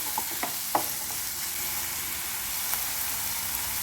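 Onion and ginger sautéing in coconut oil with mustard seeds, a loud, even hiss of frying nearby with a few small pops and stirring clicks early on.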